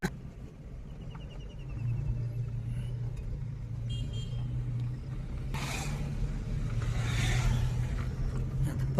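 A learner's car pulls away as the clutch is slowly released, a low steady engine hum that swells slightly, with a brief higher tone early on and some broadband noise toward the end.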